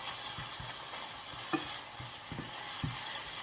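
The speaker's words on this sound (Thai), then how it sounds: "ผัดทุกอย่างให้เข้ากันจ้า" Pork with holy basil and glass noodles is stir-fried in a pan, giving a soft, steady sizzle under a few light scrapes and taps of a spatula; moderately close and fairly quiet, with no talking.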